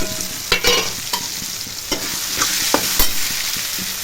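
Coconut being stirred into a frying prawn curry with chana dal, giving a steady sizzle broken by several sharp scraping clatters of the spoon against the pan, close and moderately loud with no talk.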